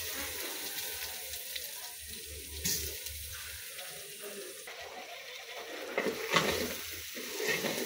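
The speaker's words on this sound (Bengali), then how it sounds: "চালগুলো ভালো করে নেড়ে নিতে হবে যেন নিচে লেগে না যায়" Rice being stirred into frying onions in a pan, with lightly dry-roasted mung dal nearby for a mutton bhuna khichuri; a spoon scrapes and shifts the grains in irregular bursts over a low, steady sizzle, fairly quiet and without talk.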